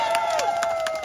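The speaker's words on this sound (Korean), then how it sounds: "박수 소리가 이래서 되겠나?" An audience at an outdoor trot music performance in Daegu claps and cheers in a brief, dense burst, rhythmic clapping beneath a sustained tone from the stage.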